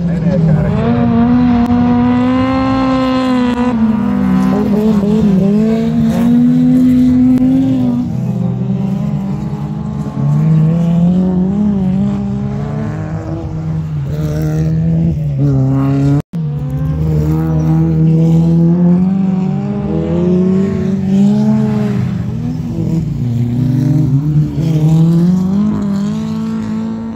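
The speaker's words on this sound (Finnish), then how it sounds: "Honkajoen radalla lähtee 15, Turva Oljajärvi menee kärkeen." Race cars roar around the Honkajoki circuit during a sports-car club's 50th anniversary race. Loud, sustained engine notes rise and fall as cars accelerate and pass, with a commentator talking over them throughout.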